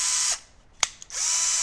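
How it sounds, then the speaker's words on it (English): A small Bosch power drill spinning a shaft to test an Omron differential encoder whines loudly and close, winds down into a quiet gap with a brief click, then revs back up to full speed. "I've got a little Bosch drill here."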